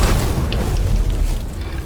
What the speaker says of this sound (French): Vous allez devoir détruire cette porte.